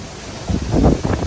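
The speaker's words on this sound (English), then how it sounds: "That is a heavy wind gust." During Hurricane Ian in Tampa, Florida, a heavy wind gust heard from inside a house swells halfway through into a brief, rushing low roar.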